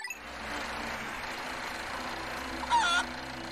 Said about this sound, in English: What is that fucking chicken sound?